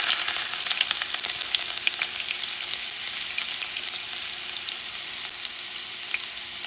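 Chopped onions frying in a generous pour of hot extra virgin olive oil, a dense steady sizzle with small crackles, close and unbroken, no voices.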